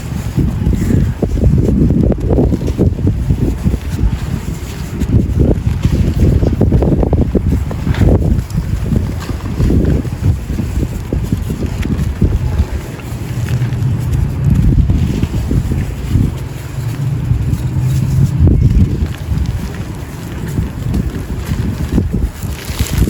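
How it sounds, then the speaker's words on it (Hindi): Strong wind gusts outdoors and batters the microphone, making loud, low rumbling buffets that surge and fade over about twenty seconds with no voices. "हवा बहुत तेज़ है।"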